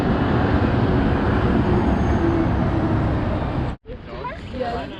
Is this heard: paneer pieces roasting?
no